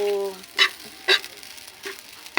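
Rice being fried into sinangag in a pan, with short bursts of sizzling and stirring scrapes at an uneven pace, preceded by a brief tonal sound.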